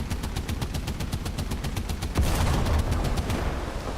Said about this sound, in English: Here's some more 50 cal sounds for you, Postman.